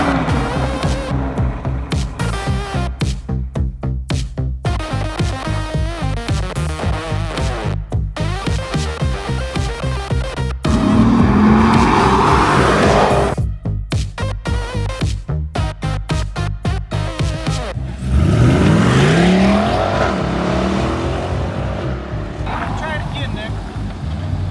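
A Chevrolet C8 Corvette Stingray's engine drives hard on the highway, a loud rough rumble that repeatedly rises and cuts out in gear shifts, with bursts of wind rush and roar between.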